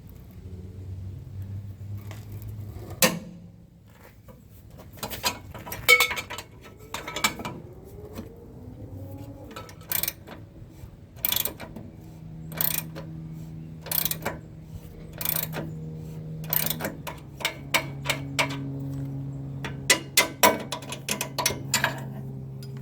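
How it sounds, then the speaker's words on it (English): A wrench fitted with an extension bar works a tight shock absorber bolt on a Nissan Hardbody D21 pickup, a run of sharp ratcheting clicks and metallic creaks in bursts, with low tonal hum between strokes. "this one's pretty tight, so I've got a bar to go on the end of my wrench here"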